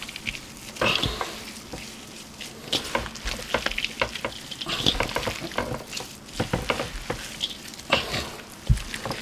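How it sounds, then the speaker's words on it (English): Ground meat for meatloaf being broken up and mixed by hand in a huge 30-quart bowl, giving close, continuous wet squelching and stirring noises with irregular thumps and no talking. "Let's get all the meat broken up."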